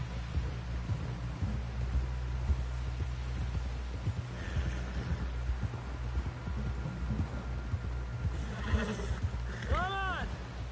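A horse whinnies in Red Dead Redemption 2, with hooves clopping along steadily under a dense game soundscape, and a rising-falling neigh standing out near the end.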